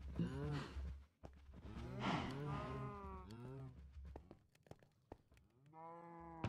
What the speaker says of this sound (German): Warum drehen die Kühe gerade durch?